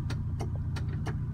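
A 1973 Toyota Hilux pickup idles close by, a steady low rumble under a faint, evenly spaced ticking pulse, with no talk over it.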